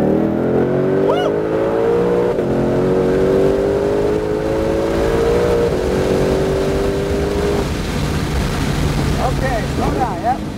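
A Shelby GT500 pulls hard on the Pocono Raceway track, its engine note climbing steadily in a loud, continuous rising drone that drops away near the end, with a driver whooping and voices over the roar.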